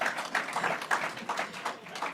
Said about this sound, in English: yeah, you can clap on that